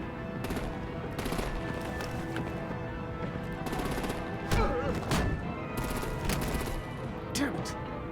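Automatic gunfire and artillery blasts from the Batman: The Enemy Within video game, sustained and loud with rapid bursts layered over a dense battle din and occasional louder booms.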